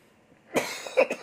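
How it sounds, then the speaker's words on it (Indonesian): A single sharp cough bursts out, followed by a couple of quick, rougher follow-up coughs close to the microphone. "Batuk saya."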